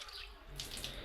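Hands being washed under running water from a tap, a brief close splashing rush with no talking.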